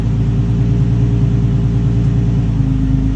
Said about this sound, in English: Did you hear that revving clip? This thing sounds amazing.